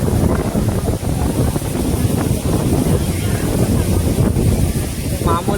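Water from Penchalakona waterfall splashing near the phone, a loud, rough continuous roar with wind-like buffeting throughout.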